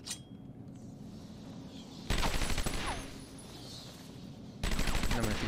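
Bursts of gunfire rain down from above in Batman Arkham Asylum, two loud sharp volleys with a quieter stretch between them.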